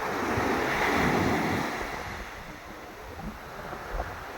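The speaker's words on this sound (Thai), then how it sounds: "ลื่นทะเลขาวๆ สวยมากเลยนะครับ ดูคลื่นลูกนี้" Ocean waves wash onto the shore with a broad roar that swells and then slowly recedes, mixed with steady wind noise on the microphone.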